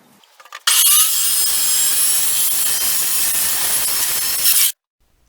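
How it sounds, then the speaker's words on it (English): A circular saw makes a freehand cut through wood for an upcycled TV stand: a sudden loud, steady whine of blade through board lasting about four seconds, then an abrupt stop into silence. "I usually make these cuts free-handed, but if you don't feel capable of your skills with the circular saw"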